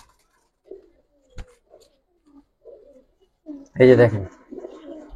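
Kaldam and Gola pigeons coo softly in short scattered calls while someone speaks nearby, his voice louder than the birds.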